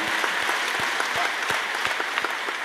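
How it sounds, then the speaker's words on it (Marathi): A kirtan audience bursts into steady, dense applause, many hands clapping together in a continuous, fairly loud wash with a few sharper slaps standing out. "नाना तुमच्या नावानं टाळ्या वाजवा"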